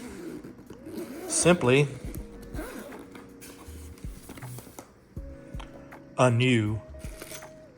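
Plastic and cardboard packaging crinkle and rustle as a new EVSE charger is unwrapped, with bursts of scraping and tearing between stretches of someone talking.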